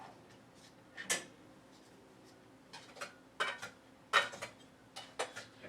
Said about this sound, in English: Mix up my raisins and everything.